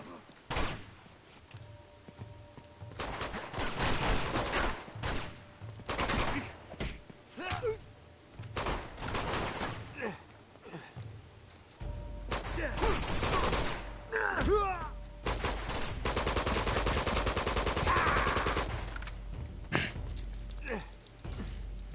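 Sniper and other gunfire in an Uncharted action game, sharp shots and bursts scattered across the scene, some close and loud, mixed with impacts and a dense stretch of continuous firing and debris near the end.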